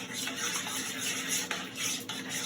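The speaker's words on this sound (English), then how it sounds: "And we're going to give this a little mix here." Vanilla and sugar are stirred into a fruit-pop mixture with a utensil in a bowl, producing close, soft scraping and swishing strokes in an uneven rhythm, with a few sharper taps against the side.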